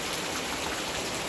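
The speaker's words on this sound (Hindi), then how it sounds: "बहुत ज़्यादा से ज़्यादा बारिश हो रही है" Heavy rain pours down near a home, a dense, loud, unbroken hiss of water with no gaps and no voices.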